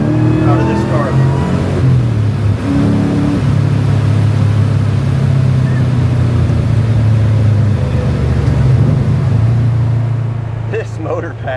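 A supercharged 1963 Nova fitted with a Whipple blower and a six-speed, driven hard on an open road; loud, steady engine drone throughout, rising and holding under load, with someone talking over it.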